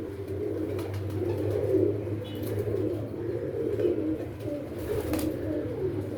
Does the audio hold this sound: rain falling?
no